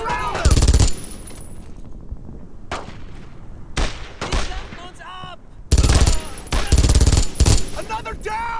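World War II video game battle with loud bursts of machine-gun and rifle fire in short clusters separated by quieter stretches, close and sharp, with voices shouting between volleys.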